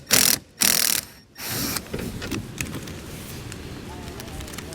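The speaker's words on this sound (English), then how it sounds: "We're going to need a T20 Torx bit to get that out." A T20 Torx bit works a screw out of a 2013 BMW 3 Series during a hidden trailer hitch installation, with a few close ratcheting clicks and bursts at the start, then quieter mechanical fiddling.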